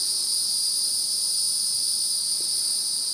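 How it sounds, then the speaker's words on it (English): Cicadas buzz loudly along a Florida rail trail, a piercing, unbroken high drone that holds steady throughout with nothing else over it. "The cicadas are strong here."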